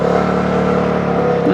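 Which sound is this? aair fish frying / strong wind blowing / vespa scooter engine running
vespa scooter engine running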